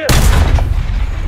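AMX-13 (FL11) tank cannon firing in the World War I-era video game In Flanders Fields, one loud close blast with a sharp onset and a long rumbling low tail.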